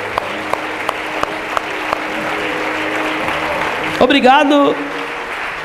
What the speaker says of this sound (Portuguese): Dê um aplauso a Jesus por cada pessoa que está conosco pela primeira vez.